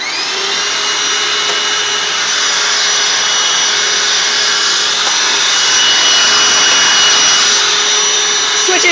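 A Hoover WindTunnel self-propelled upright vacuum cleaner runs steadily and loudly up close, its motor whine and airflow roar constant throughout with no talking.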